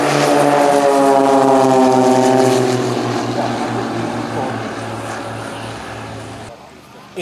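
An Extra 330 aerobatic plane with a 300 hp, 540-cubic-inch fuel-injected opposed engine roars loudly and close at the Hahnweide vintage aircraft fly-in. Its propeller drone drops steadily in pitch as it passes, then fades away.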